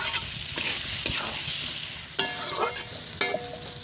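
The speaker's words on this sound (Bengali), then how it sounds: "পেঁয়াজ একটু ভেজে নিয়েছি" Onions fry in a pan with cardamom, cloves and cinnamon for chicken kosha, a steady hiss under several sharp metallic clinks and scrapes of a spatula against the pan, close and fairly loud, with no speech.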